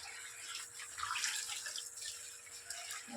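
Tap water runs steadily into a bucket during a bath on a cold winter day, a continuous close splashing hiss with no talking.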